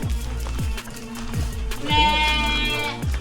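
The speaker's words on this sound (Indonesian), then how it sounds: "Kambing piknik ini udah ukuran dewasa." A goat of adult size bleats in a rural outdoor spot, a few short wavering cries rising over a rhythmic background of repeated low thumps, fairly close and clear.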